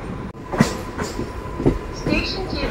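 A Hyderabad MMTS local train running into Bharat Nagar station, a steady loud rumble of wheels on rails with rhythmic clacks and a sharp jolt near the start.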